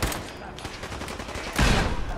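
Gunfire and a grenade explosion in the video game Fallout 4: rapid, loud bursts of shots, then a heavier blast near the end.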